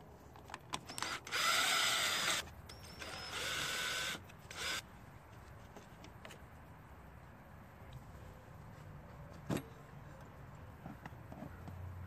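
Removing bolts from the air filter base on a Craftsman lawn mower carburetor with a power tool, in several loud close bursts of whirring over the first five seconds, followed by faint handling clicks and one short sharp tap.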